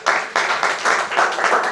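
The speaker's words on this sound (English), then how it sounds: "Please, a round of applause." An audience claps in a few loud, overlapping bursts that rise and fall over a couple of seconds, close and dense, with no speech over it.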